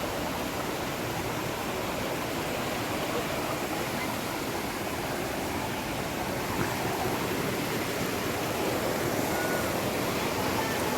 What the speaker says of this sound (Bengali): এইদিকে হচ্ছে জল পড়ছে, জলটা মানে পাহাড়ের ওপর থেকে আসছে